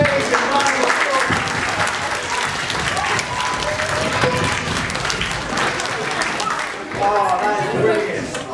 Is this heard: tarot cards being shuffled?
no